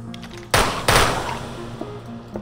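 Gun blasts in modded Minecraft, fired in a cave at an armored zombie: two sharp, loud shots about a third of a second apart, followed by softer game sounds, with no talking.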